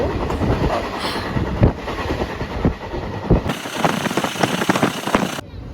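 A train rumbles along loudly with steady rhythmic clatter of wheels on rails, continuous and close, with a brief shift in tone near the end.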